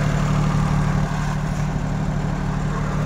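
A car engine idles steadily, a loud, even low rumble with a constant hum and no change in pace, heard alone without talk.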